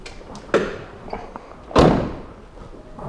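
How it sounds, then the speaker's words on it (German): The door of a 2022 Kabe Affinity camper van closes, two close thumps about a second apart, the second a louder solid slam, with light handling clicks between and no talk. "dann mache ich mal die Tür zu"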